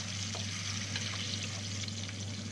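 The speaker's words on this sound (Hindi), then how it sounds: "उसके बाद इसको हल्का सा करेंगे हम फ्राई" Finely chopped garlic and round red chillies frying in oil make a steady, soft crackling sizzle, close by and continuous, with faint scattered pops and a low hum underneath.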